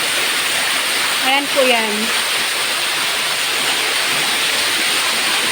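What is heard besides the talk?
flowing water at condo swimming pool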